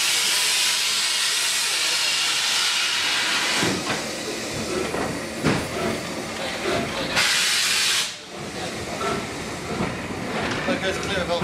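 A steam locomotive hisses at a spring steam gala on the Mid Hants Railway, with sharp bursts and long stretches of venting steam close by, plus faint clanks and background voices.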